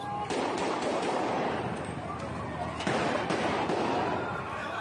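Dense, continuous crackling bursts of police gunfire, loud and chaotic, with sharper cracks standing out and no clear pauses.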